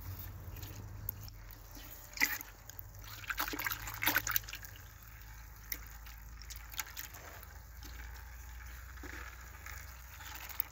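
Homemade seaweed fertilizer liquid being stirred in a bucket, with soft sloshing and dribbling water sounds that are faint and intermittent over a low background hum.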